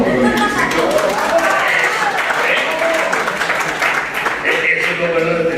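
An audience at an academic conference applauds, dense sustained clapping that fills the room and continues steadily throughout without letting up.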